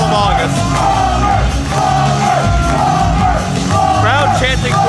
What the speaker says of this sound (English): Crowd chanting for Justin Plummer, who is the backstage interviewer here by WC